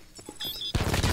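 Call of Duty: Black Ops 4 SWAT RFT assault rifle firing, a loud dense burst of rapid shots that erupts after quieter game sounds, continuous and close.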